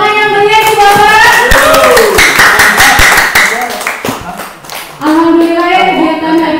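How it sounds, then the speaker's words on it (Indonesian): An audience claps at the close of a school positive-culture dissemination session, with a brief patter of hands partly buried under a loud voice talking over it. "Kita beri tepuk tangan yang meriah Bapak."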